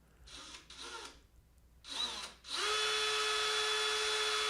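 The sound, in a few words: drill boring a hole while riveting RV-14 wings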